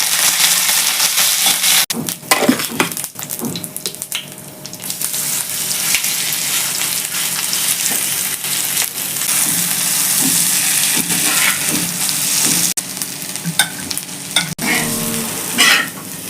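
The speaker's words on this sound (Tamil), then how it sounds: "இப்போ முழு உளுந்து சேர்த்துக்கிறேன். கொஞ்சம் கருவேப்பிலை சேர்க்குறேன்." Whole urad dal and curry leaves frying in hot oil in a pan, crackling and sizzling loudly with repeated stirring and scraping, several sharp pops, and a steady hiss throughout.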